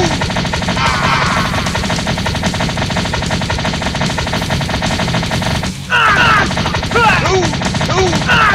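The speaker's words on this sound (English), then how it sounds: "Machine gun." Rapid machine gun fire from the Alpha Guns video game, dense continuous bursts with game music and effects, briefly dropping out before resuming with bright electronic chirps.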